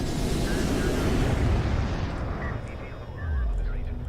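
An artillery barrage in Homeworld: Deserts of Kharak pounds out a dense, continuous rumble of explosions and booms, with a fresh heavy blast rising near the end.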